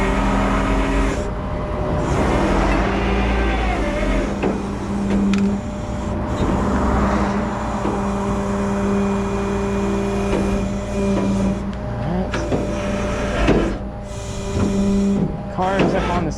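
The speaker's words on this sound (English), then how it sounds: "Going to attempt to use the bed to push the skates up under the tires" A tow truck's tilting bed pushes wheel skates under the tires of a Tesla, a steady close hydraulic hum and mechanical drone with occasional clunks, while someone speaks intermittently.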